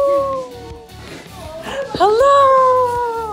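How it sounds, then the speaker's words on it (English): Several dogs howl together in long wavering tones close by, rising and falling, while people talk and greet them over the top. "Oh, the dogs."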